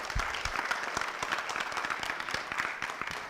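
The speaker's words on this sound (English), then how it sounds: "Can we give him a round of applause?" An audience gives a guest a round of applause at an evening gathering: a dense, sustained wash of many hands clapping at moderate level for over three seconds, with no talk over it.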